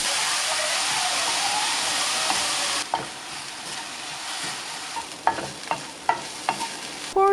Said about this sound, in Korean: 올리브 오일에 볶아줍니다.